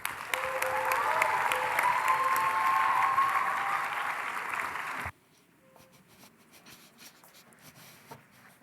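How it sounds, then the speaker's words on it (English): Loud, steady applause from a debate competition audience after the ESL grand final, sustained for about five seconds and then cutting off abruptly to a quiet room with faint shuffles. "we owe all teams in this debate another huge round of applause"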